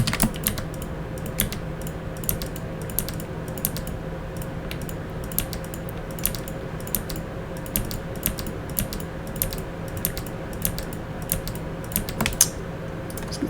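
Computer keyboard keys pressed in quick, irregular bursts of sharp clicks while shortcuts are used in 3D modelling software, close and fairly soft over a steady low hum, with no talking.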